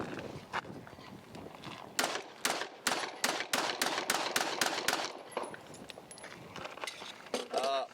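A PSA Dagger Micro pistol fires a quick string of about eight to ten sharp, loud shots in steady succession at a shooting range, with shuffling and handling noise before and after the shots.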